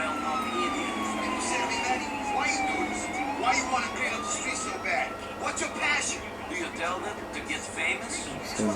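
An ambulance siren in GTA IV wails continuously through a busy game soundscape, its pitch sweeping up and down over engine noise and traffic.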